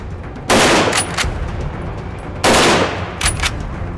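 Two loud rifle shots ring out about two seconds apart at a running boar target shooting competition in Gironde, each crack trailed by a rolling echo and fainter follow-up reports.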